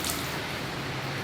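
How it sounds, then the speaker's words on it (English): A steady, dense wet squish and drip, close up, as water is wrung from a microfiber towel, with no pauses and no voices. "squeeze out most of the water"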